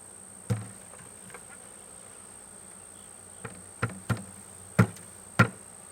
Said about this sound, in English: we're just going to dump the bees in here and close the lid